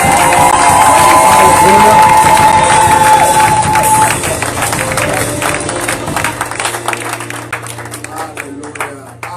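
A church congregation at a Sunday service cheers and applauds to acclaim the Lord, a loud sustained roar of voices, shouts and clapping that slowly eases off and thins toward the end.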